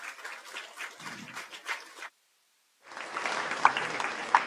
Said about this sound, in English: let us clap our hands for beloved President